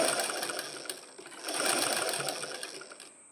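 A sewing machine stitches frills for a girl's skirt in a tailoring class. It runs in a close, steady whir of rapid needle strokes, briefly slowing once before winding down.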